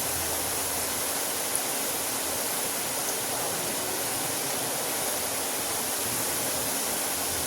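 Boondi batter frying in hot oil for a sweet-shop style mixture: a dense, steady sizzling hiss that stays loud and unbroken throughout.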